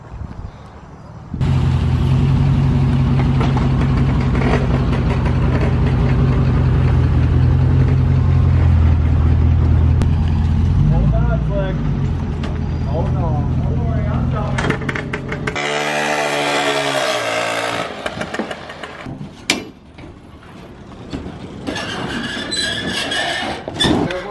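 A vehicle towing a hooked-up trailer before a drift event idles and pulls away, its engine a loud steady drone that shifts partway through with rattling and mechanical clatter.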